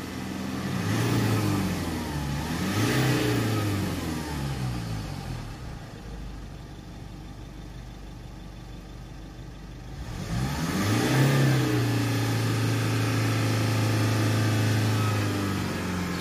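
A Jaguar F-Pace 2.0 diesel engine is revved twice in short bursts, then settles to idle before a third, longer rev rises and holds, heard up close with no talk.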